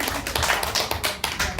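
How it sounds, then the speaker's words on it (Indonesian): A classroom gives a short burst of group applause, brisk overlapping claps from students for about a second and a half, close and lively. "Tepuk tangan untuk semuanya."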